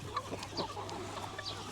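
Kharkov breed roosters and hens cluck faintly with a few scattered, short calls over a steady low background hum, sounding somewhat distant.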